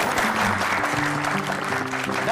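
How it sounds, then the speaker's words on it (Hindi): Steady crowd clapping fills a short stretch at a staged health-awareness show in Bihar, close and continuous, with a tonal music bed running under it. "तालियां।"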